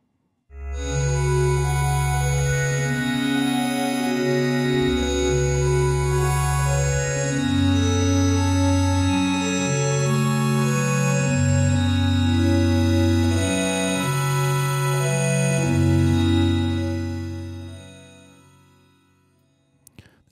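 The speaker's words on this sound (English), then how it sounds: "So it creates a nice little fluttering effect." Access Virus TI synthesizer playing a wavetable patch with a very fast LFO, giving a fluttering, shimmering texture over a sequence of sustained chords and bass notes, loud and continuous for about seventeen seconds before fading out.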